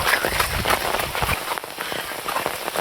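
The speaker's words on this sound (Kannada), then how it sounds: "ಸ್ವಲ್ಪ ಹೊತ್ತು ಮಳೆಯಲ್ಲಿ ವಾಕ್ ಮಾಡ್ತೇನೆ" Rain falls steadily on someone walking outdoors without an umbrella, a dense close patter of drops mixed with footsteps and small movement noises, heard alone for the whole stretch.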